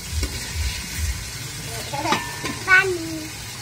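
Khichuri cooking in a pot is stirred with a few scraping, sizzling strokes, close and moderately loud, with brief low thumps early on and a short tonal squeak near the end.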